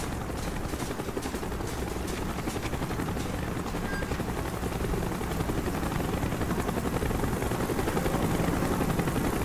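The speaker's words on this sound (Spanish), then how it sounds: "¡Helicóptero en camino!" Helicopter in the Call of Duty: Black Ops video game, a loud steady rotor thrum and engine whine that holds throughout with no talk over it.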